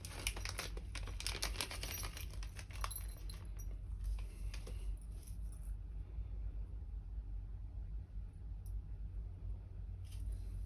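Small metal Allen keys jangle and clink together in a box of mounting parts for a NerdQAxe++ bitcoin miner, with bright clustered rattles early on that thin out to sparse faint ticks over a low steady hum, and no voices.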